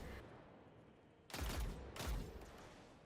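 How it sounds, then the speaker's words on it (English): Arc machine gun fire in Destiny 2, heard as two loud bursts of rapid shots from a fairly close weapon over a low ambient hum, without speech. "just spam my arc machine gun to make Warmind cells"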